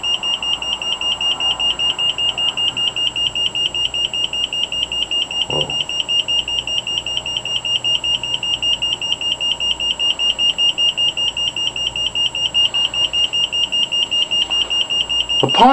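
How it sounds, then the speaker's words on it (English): A wellness timer device sounds its warning buzzer as a rapid, unbroken train of shrill high-pitched beeps, loud and close, with a faint click or two in the background. "the warning buzzer continues to sound and the countdown display is blanked out"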